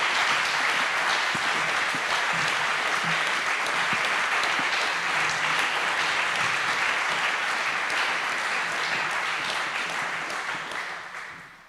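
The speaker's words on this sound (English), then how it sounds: "A round of applause to welcome Laila Guerrero up to the stage" Award ceremony audience applauding to welcome speaker Laila Guerrero on stage: sustained, even applause from a large crowd, moderately distant, fading out at the end.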